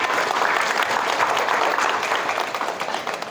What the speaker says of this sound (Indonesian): Tepuk tangan dong buat mereka barangkali.